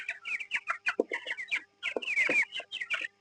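Chickens clucking busily, several birds overlapping in quick irregular calls, close by and fairly loud, with no talking.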